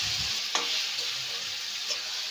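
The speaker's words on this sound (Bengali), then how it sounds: "এবার ম্যারিনেট করা মাংসটা আমি কড়াইয়ের ওপর দিয়ে দেবো" Marinated meat going into a hot wok (kadai) to fry, giving a soft, steady sizzle with a brief louder hiss as it hits the pan and light stirring clatter, heard alone without talk.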